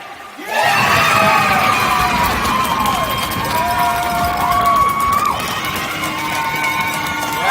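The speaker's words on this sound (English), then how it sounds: "this crowd is pretty loud here, and you can tell they're really into it" Hockey crowd in the Kenora arena roars and cheers after a breakaway goal, a loud sustained wall of shouting and whooping that swells in right away and holds steady throughout.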